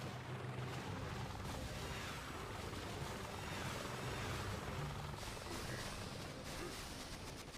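Heavy helicopters attack in the mobile strategy game Boom Beach, a dense, constant roar of rotors mixed with booming artillery and explosions, loud and unbroken throughout.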